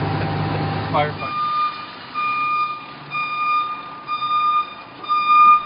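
Reversing alarm of a Fresno fire engine backing into its station: evenly spaced, loud electronic beeps repeating after a short burst of engine and ambient noise at the start.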